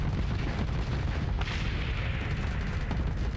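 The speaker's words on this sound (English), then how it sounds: "We're just gonna happily sit here and shoot you to death." Spaceship weapons fire continuously in a Starsector space battle, a dense, loud barrage of booming shots and bursts that never lets up, with a sharper blast standing out about midway through.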